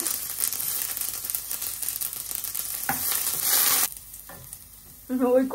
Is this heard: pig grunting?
no